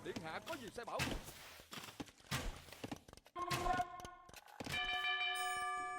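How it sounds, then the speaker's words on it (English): In Age of Empires II, a town bell rings out as a bright, ringing chime after a stretch of talking over thuds and in-game clatter, then a second higher bell tone rings and sustains. "we had a town bell wrong"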